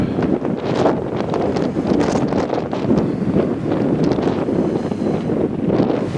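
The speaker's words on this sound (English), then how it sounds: "It's windy up here, you can tell by listening to the video." Strong wind buffets the microphone on an open ferry deck near Devonport, Auckland, a loud continuous roar with gusty rushing throughout.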